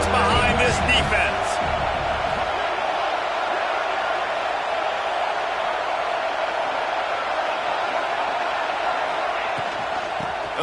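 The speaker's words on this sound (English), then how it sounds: "Big third down as the crowd gets behind this defense." A football stadium crowd cheers loudly for the defense on a big third down, a steady broad roar of many voices filling the space, with some brief thumps near the start.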